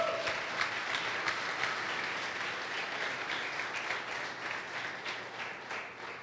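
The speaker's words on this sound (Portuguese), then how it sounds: "Pode aplaudir o Senhor." A church congregation applauding in worship, a dense, steady wash of many hands clapping that fills the room and slowly fades toward the end.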